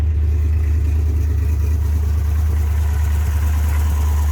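A 1973 Plymouth Satellite with a big-block Six Pack engine idles steadily and close, a deep, even low rumble that holds without revving throughout.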